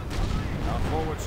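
Artillery shells land around a victory point in a WWII strategy game, a dense rumbling barrage of blasts kicking up dust and dirt, with a voice talking over it.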